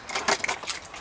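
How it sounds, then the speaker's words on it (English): Keys jangle and clink briefly as someone locks a door, with a few quick metallic rattles close by. "we lock the door"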